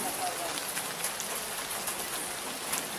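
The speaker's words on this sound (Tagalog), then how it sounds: "Dito kami nabutan ng ulan." Steady, dense rain falls on surfaces nearby, a continuous hiss with scattered droplet patter and no break across the clip.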